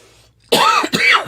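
Two quick, harsh coughs from a person with a cold, close up, one right after the other, with near silence before them.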